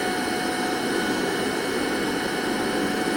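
A vacuum cleaner runs at its second speed setting with a steady, loud, high-pitched whine and rushing airflow that holds unbroken for about three seconds, close by and with no voices.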